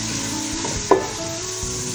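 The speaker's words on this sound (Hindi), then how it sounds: "प्याजों को करेंगे अच्छी तरह से हम फ्राई" Onions fry in oil in a pan, a continuous close sizzle with a brief clatter of stirring near the middle, no voices over it.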